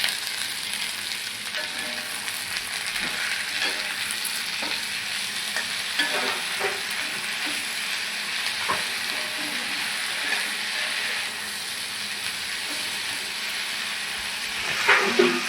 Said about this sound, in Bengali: পেঁয়াজ রসুনের সঙ্গে আমি শুটকি মাছ দিয়ে দিচ্ছি, একসঙ্গেই আমি ভালো করে ভেজে নেব।